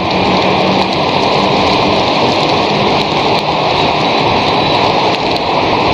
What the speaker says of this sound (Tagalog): Bigla na lang umulan